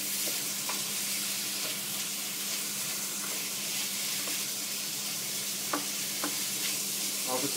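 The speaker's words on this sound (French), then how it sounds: "Alors le veau, ah ouais, ça cuit vachement vite en fait." Veal strips frying in a wok, a steady close sizzle with scattered light clicks and stirring taps running throughout, no voices.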